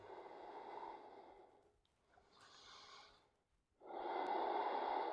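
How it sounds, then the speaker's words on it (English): Deep, slow breaths in a yoga flow: a long audible exhale, a quieter breath in, then another strong, breathy exhale, close and alone without talk. "One more deep inhale,"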